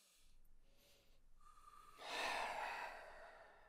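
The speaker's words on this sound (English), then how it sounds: "Maybe it's time for another deep breath." A single deep breath taken by one person, a soft inhale followed by a louder, longer breathy exhale, close and alone in a quiet room.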